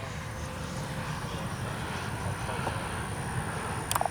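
A Freewing 80mm T-33 Shooting Star RC jet flies at full speed, its steady ducted-fan whine and rushing air holding constant at moderate distance throughout.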